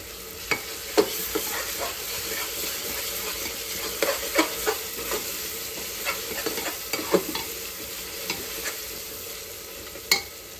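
Spice paste sautéing in a pot for one-pot biryani, a steady low sizzle broken by irregular scraping clicks of a spoon stirring against the pot, close and continuous, no talking.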